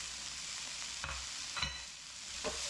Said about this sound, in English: Remember, the fire is on high, so you want to keep stirring so nothing burns.